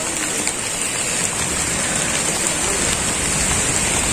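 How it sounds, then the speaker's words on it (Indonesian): Steady rain pours down outdoors in a cemetery in Aceh Selatan where a fallen tree has been cut up, a dense, even hiss of drops on surfaces with no voices. "hari hujan."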